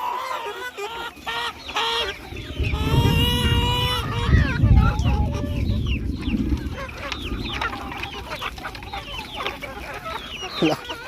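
A crowd of chickens cluck and squawk loudly and close together while being fed, with honking-like calls and scuffling, as people talk among them.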